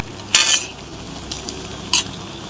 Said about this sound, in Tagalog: So haluin lang natin siya.